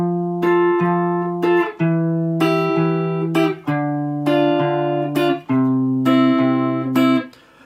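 Electric guitar plays bars 7 and 8 of a song, a short phrase of sustained picked notes and double stops that ring out cleanly and shift up in steps, close and loud with no talking.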